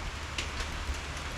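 Steady morning rain falls outdoors in a continuous, soft hiss of drops, even and unbroken, with no voices.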